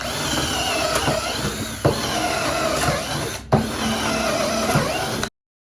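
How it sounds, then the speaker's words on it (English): A drill bit bores weep holes through the wood of a mallard nesting platform. It gives a steady, close whirring drone broken by a couple of short sharp breaks. "get a drill bit and make weep holes"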